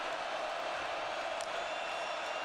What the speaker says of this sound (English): the Sun Devil crowd making noise here in Arlington